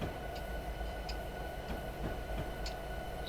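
A long train of empty coal hoppers rolls along in a Train Simulator game set in Alaska, a steady rumbling roar with faint rhythmic clicks of wheels over rail joints recurring throughout, with no talking.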